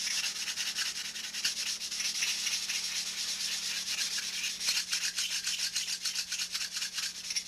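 Close-up rhythmic sanding of wood with a block, quick repeated scratchy strokes, steady throughout and a low hum in the background.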